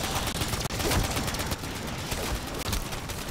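Continuous loud, dense gunfire fills an MW3 Zombies fight, a sustained rapid barrage of overlapping shots close up with no pauses.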